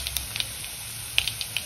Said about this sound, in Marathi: फोडणी झाली